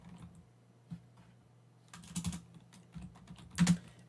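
A computer keyboard being typed on for a git command, with a few sparse, close keystrokes at first, then a quicker cluster of clicks and a final louder burst of taps, quiet overall.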